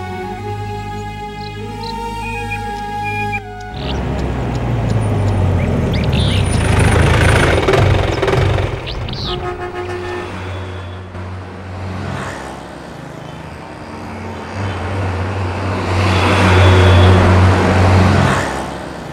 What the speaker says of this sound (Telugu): త్వరగా బస్సు కదలబోతుంది